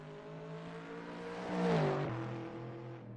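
GT3 race car onboard at Bathurst's mountain section in rFactor 2, an engine drone that swells midway with a rising and falling shift in pitch, then settles back to a steady hum.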